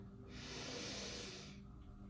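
One slow, audible breath drawn in through the nose during a gentle yoga stretch, a soft close hiss that swells and fades over about a second and a half, with no speech.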